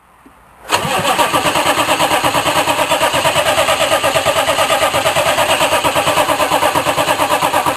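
A one-ton dually truck with a 6.5 metric starter cranks briefly and its engine catches, settling into a loud, steady running rumble with a fast, even pulse that carries through to the end, with no talking.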